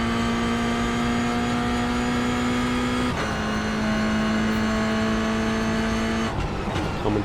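Race car engine from the iRacing sim racing game holds a steady loud high drone through a lap, shifting pitch as it exits a corner and crosses the start-finish line, with a gear change near the end.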